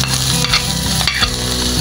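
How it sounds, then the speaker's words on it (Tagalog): Tuna steak sautéing in oil in a pan, a continuous close sizzle with stirring scrapes and small bumps throughout, no voices. "magigisa na tayo"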